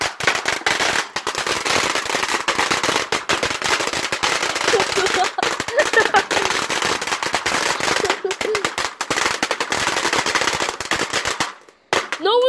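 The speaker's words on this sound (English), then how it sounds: "Well, I'd have called that a firecracker." A long rapid string of firecracker bangs at an outdoor firework show, dense crackling pops that continue almost without pause for over ten seconds, loud and close, then stopping abruptly with a voice briefly audible at the end.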